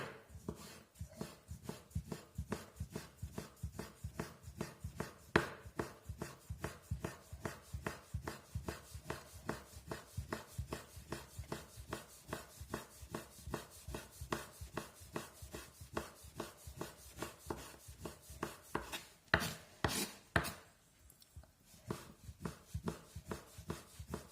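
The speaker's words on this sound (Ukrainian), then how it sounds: "І зараз буду нарізати. Я починаю його дробити." A knife chops through homemade chicken on a board for broth, sounding as a long run of rapid, evenly spaced close thuds that keeps up steadily for the whole stretch, with a short pause near the end.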